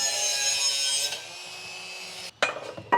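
A metal tab is cut off a rear bar on a Toyota 80 Series with a Turbo Barra swap, giving a steady, loud rasping cut that stops, then a few sharp clanks and scrapes close by.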